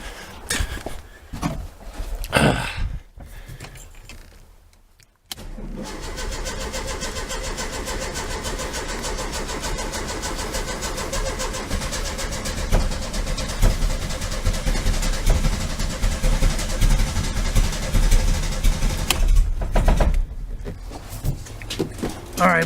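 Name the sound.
1973 VW Super Beetle engine cranking with gas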